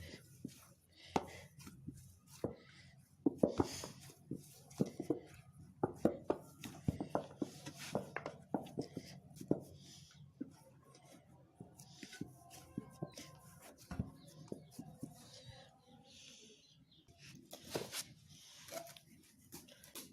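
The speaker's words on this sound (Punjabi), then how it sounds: "ਆਪਾਂ ਇੱਕ ਚਮਚਾ ਘਿਓ ਦਾ ਪਾ ਕੇ ਮਸਲ ਲੈ ਆਟੇ ਨੂੰ ਚੰਗੀ ਤਰ੍ਹਾਂ ਸੂਜੀ" Semolina dough being kneaded by hand with ghee gives soft, irregular squishing and pressing sounds close by, quiet, with intermittent speech over it.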